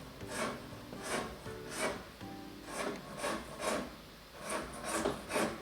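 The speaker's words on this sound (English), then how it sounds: "I think he's sawing something now." An upstairs neighbour saws something overhead, a steady back-and-forth rasp of about a dozen rhythmic strokes, muffled through the ceiling and moderately loud.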